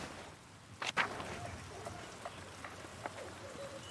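Steady faint rain hisses in the medieval video game Pentiment, with a few soft tapping clicks and one brief louder patter over the continuous wash.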